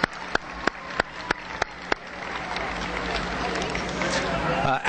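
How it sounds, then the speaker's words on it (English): An outdoor crowd at an evening holiday tree lighting breaks into applause, starting with a few sharp isolated claps and swelling into steady, sustained clapping that grows slightly louder toward the end. "If we could give them a round of applause,"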